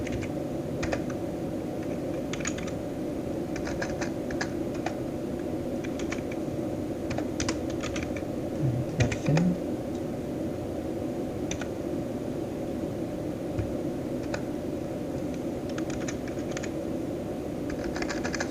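A database command is typed on a computer keyboard in steady, quick clatters of key clicks that run throughout, close and fairly quiet, with no voices.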